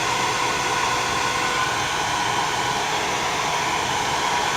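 A hair dryer blows steadily and loudly on an iPhone 4S screen to heat it for removal, a constant close-up whoosh with no pauses and no talking.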